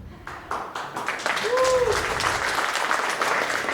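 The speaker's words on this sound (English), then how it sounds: "give them a round of applause" Applause from the audience at the Startup St. Bernard pitch event breaks out and swells into steady, dense clapping that holds at full strength throughout.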